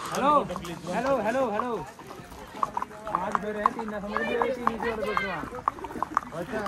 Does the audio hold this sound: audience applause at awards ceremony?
no